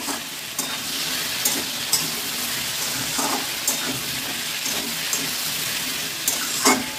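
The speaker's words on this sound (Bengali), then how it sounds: "লবণ হলুদ দিয়ে একটু নাড়াচাড়া করে নিই।" Food frying with salt and turmeric sizzles steadily in a pan while being stirred. Soft scrapes and small clinks recur against the constant close hiss.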